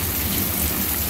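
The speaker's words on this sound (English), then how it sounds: "still raining." Steady, heavy rain pours down during a thunderstorm with a low rumble underneath, a dense unbroken wash of sound with no voices.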